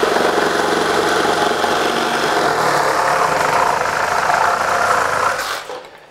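A Milwaukee M18 cordless power tool on a REDLITHIUM Forge 6.0 Ah battery pack makes a hard cut: a loud, steady grinding roar holds for about five seconds, then winds down and drops away at the end.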